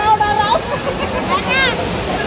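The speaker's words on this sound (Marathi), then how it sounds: "धनगर वॉटरफॉल" Dhangar waterfall near Badlapur roars as a loud, constant rush of water close at hand, with voices rising over it at moments.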